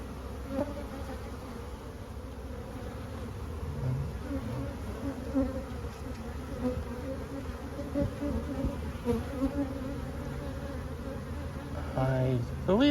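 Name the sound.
honey bees buzzing at a swarming hive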